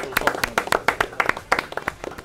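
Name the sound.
applause for a team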